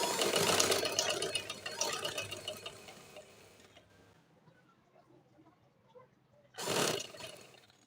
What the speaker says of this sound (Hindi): बिल्कुल किनारे किनारे पर आपने सिलाई लगानी है और इसे कंप्लीट करना है।